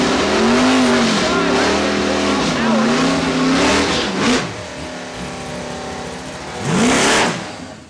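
A Volvo race car revs hard and accelerates at a season-opener points race at Saskatchewan International Raceway. The engine is loud and near, its pitch rising and falling over several seconds, with a second surge near the end.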